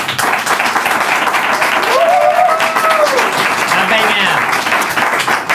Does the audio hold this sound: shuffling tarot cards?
no